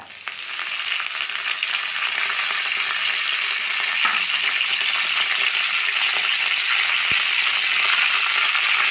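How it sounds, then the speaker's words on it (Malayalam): Mustard seeds and curry leaves fry in a tablespoon of coconut oil in a clay pot, giving a loud, continuous hiss and crackle with faint popping, steady throughout and with no talk. "ഒരു ടേബിൾ സ്പൂൺ വെളിച്ചെണ്ണ വീത്തിൻ്റെ അതിൽ കുറച്ച് കടുകിടാം കുറച്ച് വേപ്പില്ല"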